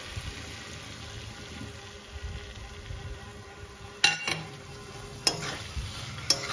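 Coriander and cumin paste frying with fish head and cabbage in a pan, a low steady sizzle broken by a few sharp clinks of a spatula scraping the metal.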